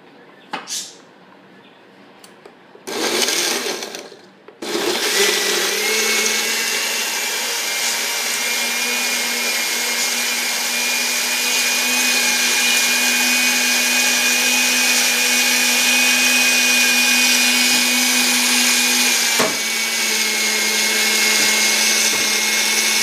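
A kitchen blender whirs steadily and loudly for most of the stretch, following a few short clattering bumps at the start.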